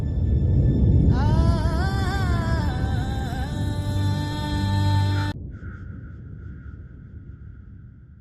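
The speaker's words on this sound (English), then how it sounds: "So what I have here is this is the sound of a storm" A designed storm effect layers a heavy low rumble under howling, sliding tonal swells. Its level rises and falls, then drops sharply near the end, leaving a thin lingering tone.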